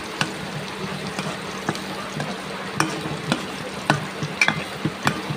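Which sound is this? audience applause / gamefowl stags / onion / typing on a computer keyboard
onion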